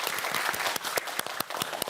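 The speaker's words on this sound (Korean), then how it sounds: "박수 좀 주세요." A studio audience at a Korean lecture-style talk show claps in a short burst. Dense, close applause rises and falls over about two seconds with distinct individual claps.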